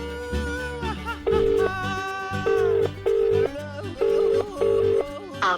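An outgoing phone call's ringback tone plays in repeated short bursts, each a steady mid-pitched tone separated by gaps, over soft background music in a Hindi comedy drama.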